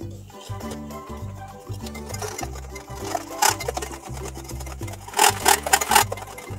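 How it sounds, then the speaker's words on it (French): A handheld electric whisk whirs through three eggs and sugar for an apple, raisin, walnut and cinnamon cake batter, a steady pulsing motor hum with brighter rattling bursts as the beaters knock the bowl. "On va casser les 3 œufs. Et on va venir fouetter le tout."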